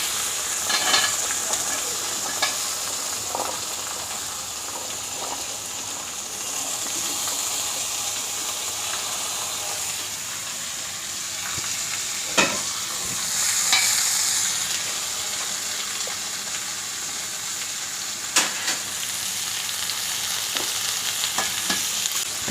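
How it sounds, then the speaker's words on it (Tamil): Chopped vegetables for veg pulao sizzle and fry steadily in a pan, with occasional clinks and scrapes of stirring over a continuous hiss. "கட் பண்ணி வச்சுருக்க வெஜிடபிள்ஸ் எல்லாத்தையுமே இதில் ஆட் பண்ணிக்கோங்க."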